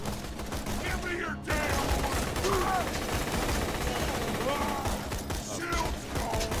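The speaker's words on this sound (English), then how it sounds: "This gun isn't too good damage-wise, but it does make up in fire rate." Rapid-fire hand minigun in the Borderlands 2 video game, a dense stream of gunfire crackle and mechanical clatter running almost continuously with a brief drop near the start, busy game sounds layered underneath.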